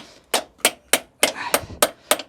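A hammer knocks at a seized battery terminal during race-car prep: seven sharp, close metallic blows landing at a steady rhythm about a third of a second apart.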